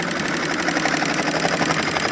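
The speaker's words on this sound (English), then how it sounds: "So let's sew this now." An industrial sewing machine stitching a box and cross pattern, a steady dense mechanical whir with a fast rapid pulse throughout, loud and continuous, no voices.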